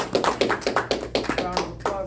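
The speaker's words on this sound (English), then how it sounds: "round of applause, brothers and sisters" An audience of brothers and sisters at a religious meeting applauds with a run of steady, evenly spaced claps, close and fairly loud.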